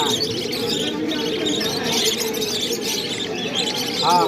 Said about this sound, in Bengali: এখানে এক ভাইয়ের কাছে কিছু বাচ্চা সহ বাজিগর রয়েছে